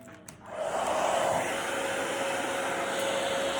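A hair dryer blows hair dry, kicking on after a brief quiet moment and then roaring with a loud, steady, close whoosh carrying a faint whine.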